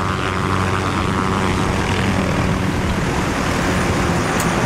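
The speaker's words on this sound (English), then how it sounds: "Barkov is sending in helicopters." Helicopters in the video game Modern Warfare, a loud, continuous rotor and engine roar that fills the whole stretch without a break.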